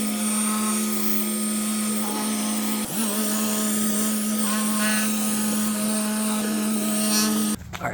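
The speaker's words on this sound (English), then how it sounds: "So we're gonna get polishing, starting up above the rub rail, and then we'll do the hull, the back" Machine polisher with a foam pad working an oxidized hull on a 21-foot red Crownline boat: a steady, loud motor whine with a constant pitch runs throughout, with a slight dip near the middle and an abrupt cutoff at the end.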